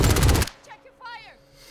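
A short burst of rapid AK rifle fire rattles loudly in a video game match, cutting off abruptly and followed by faint game sounds.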